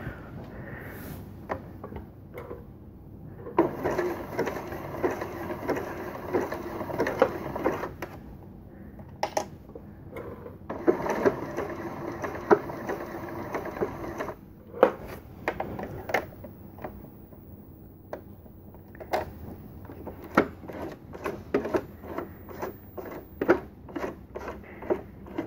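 An electronic sewing machine stitches a button in two steady, whirring mechanical runs, followed by scattered clicks and taps as the machine is adjusted.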